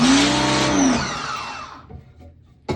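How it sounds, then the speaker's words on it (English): A power washer starting up beside a screen-printing screen, a loud mechanical whine and rush that winds down and fades over a couple of seconds, ending in a brief burst at the close. "Turn the water on first. Turn the power washer on next."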